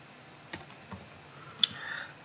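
A computer keyboard typing a command into a MikroTik router terminal, a handful of sparse, quiet key clicks with one sharper tap, close up, with no talking.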